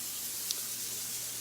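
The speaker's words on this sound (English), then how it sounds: "So I think I'm just going to spray it down." Cooking spray is given one short hissing burst onto a pan being readied for asparagus, faint against a quiet background with no voices.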